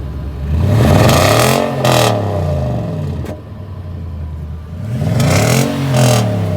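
A 2020 Nissan Titan pickup's engine revs loudly twice close by, each rise and fall giving a raspy exhaust note, with a short pause between the bursts.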